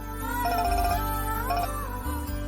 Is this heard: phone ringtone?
yes